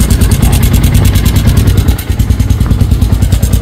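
A Yamaha Sniper 150 V2 motorcycle engine idles close and loud with a rapid, steady mechanical clatter and a dense, rough rumble throughout.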